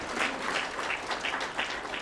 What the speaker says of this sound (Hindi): एक बार सभी के लिए जोरदार तालियां होनी चाहिए for all the award